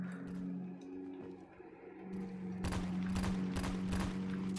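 Rapid bursts of gunfire from a Redhawk gun in a deathrun game mode, sharp broadband cracks repeating through the second half over a steady low hum, fairly loud and close.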